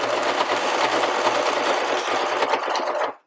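A sewing machine stitches a pocket cloth diaper made with PUL fabric, running as a loud, close, steady buzz of rapid needle strokes for about three seconds before stopping abruptly.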